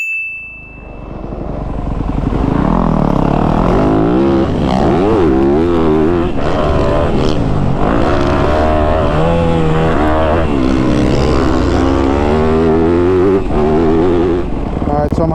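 Kawasaki KX250 dirt bike engine revving loud and close as it rides, pitch rising and falling with throttle changes over a steady roar, with voices talking over it.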